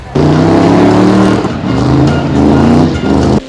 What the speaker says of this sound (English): It was Tyler's first demolition derby, and he hoped to see some cars get smashed.